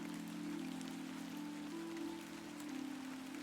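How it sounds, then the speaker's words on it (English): Rain falling in the video game The Excavation of Hob's Barrow, a soft steady patter of drops with a faint sustained tonal hum beneath, quiet and continuous. "Oh, it's raining."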